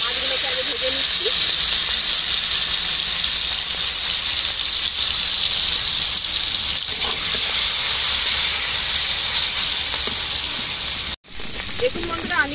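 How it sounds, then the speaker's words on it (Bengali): Small prawns coated in salt and turmeric fry in hot white oil in a wok, giving a steady, loud sizzling hiss throughout, broken only by a brief gap near the end. "মাছগুলোকে আগে ভেজে নিচ্ছি"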